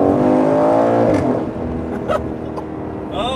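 A 2021 Aston Martin Vantage Roadster exhaust, in Sport Plus mode, roars loudly and close, then drops in pitch through a downshift with sharp crackles and pops as the revs fall.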